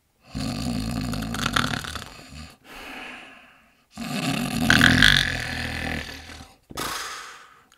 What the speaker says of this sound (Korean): 배가 부른 늑대는 침대에 누워 큰 소리로 코를 골며 잠을 자기 시작했어요.